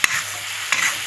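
Tomatoes are tipped into spice masala frying in a pan, giving a sharp burst of sizzling and stirring followed by a second louder hiss of frying.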